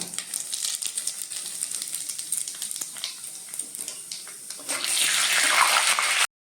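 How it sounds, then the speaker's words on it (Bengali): Nigella and carom seeds hitting hot oil: a steady crackling sizzle with scattered pops, swelling into a louder, brighter hiss near the end before cutting off abruptly. "তেল গরম হয়ে গেছে, দিয়ে দেব কালো জিরে আর জোয়ান"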